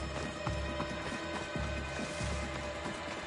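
A horse gallops at a steady pace in Assassin's Creed Odyssey, its hoofbeats a continuous rhythmic clip-clop over a dense game soundscape with low rumbling and mechanical clatter.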